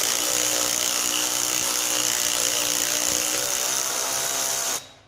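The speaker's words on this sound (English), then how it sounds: "I'm actually going to use an electric ratchet to see if I can speed this up and make life easier for myself" An electric ratchet drives a rusty bolt on an Estate by Murray 8/27 dual-stage snow blower, giving a steady loud motor whine that runs unbroken for nearly five seconds before cutting off abruptly.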